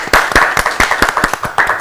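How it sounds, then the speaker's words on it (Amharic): Clapping for children on stage at an Easter-holiday children's TV show, a small audience's claps landing in a loose, uneven rhythm of a dozen or so sharp hits, fairly close and loud, with no talk. "እስቲ አጨብጭቡላቸው በድጋሚ"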